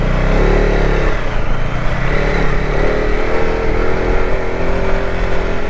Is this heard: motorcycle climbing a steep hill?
yes